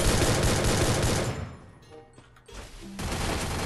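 Rapid bursts of gunfire from the battle-royale game Free Fire, a loud sustained fusillade that drops away briefly midway before another volley returns.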